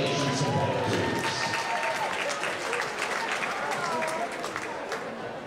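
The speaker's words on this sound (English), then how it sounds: "So the next round of applause for our finalists" Audience applause for the finalists at a ballroom dance sport championship, a loud, continuous wash of clapping from a large crowd that slowly tapers off.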